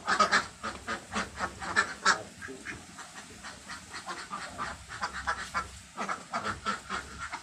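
A flock of laying ducks on a duck farm quacks and chatters continuously, the calls overlapping at moderate volume with no talking.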